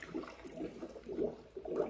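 Sanitizing liquid sloshes and splashes inside an ice cream machine, a soft, continuous watery churn with gentle surges, heard close and alone without any talk.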